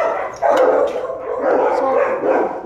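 A dog barking at another dog, a few short, close barks and yips in quick bursts with a whimpering edge, separated by brief pauses.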